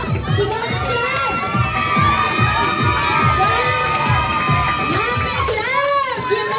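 A crowd of children at a school pageant shouts and cheers loudly for their club, a dense, continuous roar of young voices with rising yells throughout.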